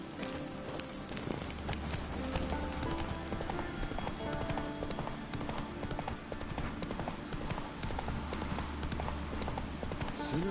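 Horse hooves clip-clop steadily and close in The Witcher 3, a continuous trotting rhythm layered over game music and ambient background sound.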